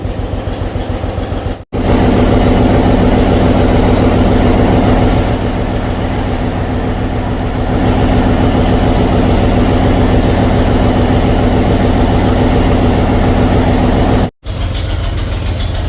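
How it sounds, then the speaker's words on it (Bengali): Two 750 hp eight-cylinder propulsion engines aboard the passenger ship MV Karnaphuli-3 drone loudly and steadily, with two very short dropouts in the rumble. "প্রপালশন সিস্টেমে রয়েছে সাতশো পঞ্চাশ হর্স পাওয়ারের দুইটি উইচে ইঞ্জিন আট সিলিন্ডারের"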